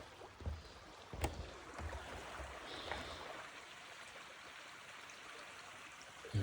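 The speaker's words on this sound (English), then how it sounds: "beautiful creek" A creek along the Pacific Crest Trail gives a faint, steady wash of flowing water, with a few soft knocks near the start and no voices.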